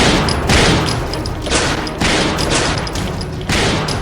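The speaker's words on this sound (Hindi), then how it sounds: "आज सुबह गोलियों की तड़तड़ाहट से गूंज उठा। 25 राउंड फायरिंग" Rapid bursts of gunfire, about 25 rounds fired outside a house in the morning, crack in quick succession, loud and close, with brief pauses between volleys.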